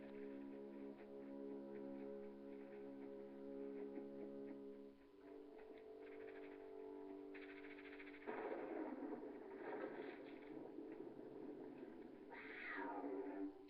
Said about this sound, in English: It was just the cat.